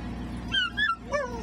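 Sled huskies kept in Churchill give a few short, high, wavering whimpers and yips, close by and fairly loud, over a low steady background.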